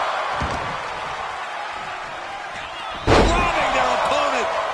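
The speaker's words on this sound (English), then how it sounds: "Robbing their opponent by the skull and slamming him down." At a wrestling show, a wrestler grabs his opponent by the head and slams him down, a single loud impact on the mat near the end of the clip, over crowd noise and a commentator talking.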